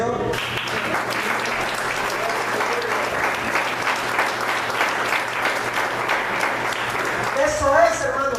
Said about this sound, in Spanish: ¿Le puedes dar un fuerte aplauso al Señor?